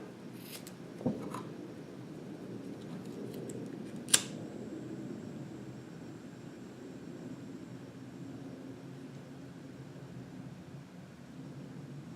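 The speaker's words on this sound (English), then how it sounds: "I'm going to go ahead and trim these off the same length and then melt them" Scissors trim the ends of braided synthetic cord before an eye splice: two quick, quiet snips about three seconds apart over a steady low background.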